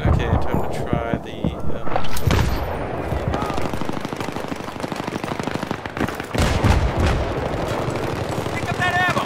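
Heavy, loud gunfire in Battlefield 3 rattles in sustained machine-gun bursts and booming shots close up, with a player talking over the chaos.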